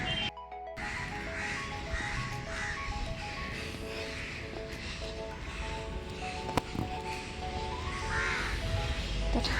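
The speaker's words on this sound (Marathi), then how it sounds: "आजूबाजूच्या पक्ष्यांचा आवाज एवढा मस्त येतो ना" Crows caw repeatedly in a garden in the morning, harsh calls rising at intervals over a steady outdoor hum and rustle, moderately distant, with no one speaking.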